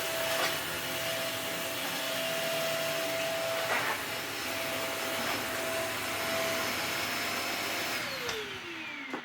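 Hoover HL4 bagless upright vacuum cleaning a rug, a loud, steady close whine and rush of suction with brief bumps, winding down at the end.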